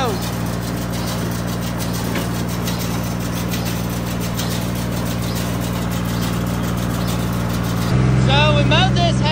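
A tractor engine runs steadily while mowing a windrow of short, dry hay, a loud droning hum with strong low tones that swells slightly near the end.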